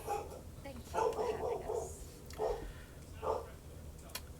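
A dog barks indoors in a few separate bursts: a longer run of barks near the start, then two single barks a second or so apart, with faint talk nearby.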